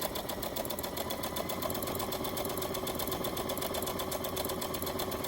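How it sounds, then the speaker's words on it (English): Sewing machine stitching drawstring bags, a fast continuous mechanical whir with rapid needle ticking, steady and close throughout. "very quickly just sew this part"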